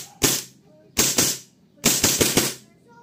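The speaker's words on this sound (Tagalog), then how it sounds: "WE-M9 Gen 2. Firing." WE M9 Gen 2 airsoft pistol firing: three sharp close shots a second apart, the last a rapid string of four or five cracks in semi-auto, each ending in a short tail.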